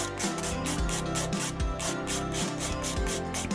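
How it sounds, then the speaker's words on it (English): Sandpaper of 100 and 180 grit is rubbed back and forth over a silicone piece, making a steady rhythmic rasping, about two strokes a second, loud and close with no talk. "I just go back and forth with the 100 grit and the 180"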